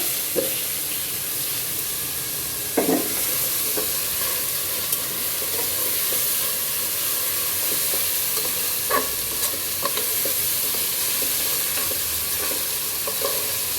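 Garlic fries in fish oil and gets stirred, a continuous close sizzle broken by several sharp spatula scrapes and clacks against the pan, with no one speaking.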